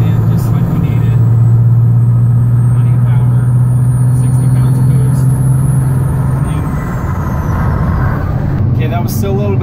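A Cummins 12-valve diesel truck engine held at full throttle, a loud, steady, deep drone with a strong low hum that holds evenly for several seconds, then eases slightly near the end.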